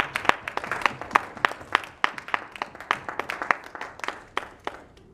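A small audience claps after a poetry reading, producing a sparse, distinct patter of individual hand claps at close range that slowly thins out.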